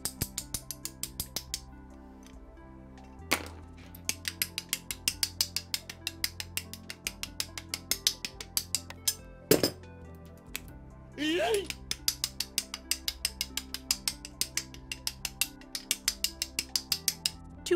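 Ratcheting joints of a handmade art doll armature clicking as they are bent, a quick series of close, crisp ticks in bursts with short pauses and a few louder knocks and a scrape.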